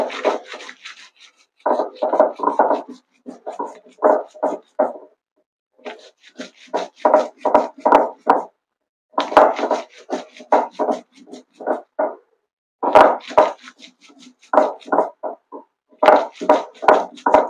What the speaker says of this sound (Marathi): त्यानंतर त्याच्यातच मी हे दाणे वाटायला घेतलेले आहे